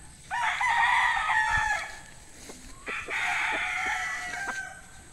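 Young gamecock stags of a winning bloodline crow twice in succession, loud and fairly close outdoors, each call a drawn-out rising and falling cock-a-doodle-doo with faint clucks and clicks around them.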